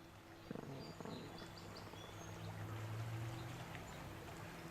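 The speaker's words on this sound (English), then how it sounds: "that's the way the water was flowing from that bridge" A stream flows steadily under a bridge in a park, a soft continuous wash of water with faint bird calls and a low hum in the background.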